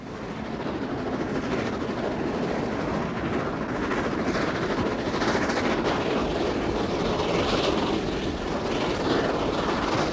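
A steady, loud rumble of the steam locomotive 4472 Flying Scotsman running, with continuous rolling and mechanical noise throughout and no pauses.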